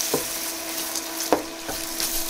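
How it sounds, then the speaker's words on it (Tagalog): Onion stir-frying in hot cooking oil in a pan, a continuous close sizzle with a few soft scrapes and knocks from stirring. "Let's stir fry the onion first."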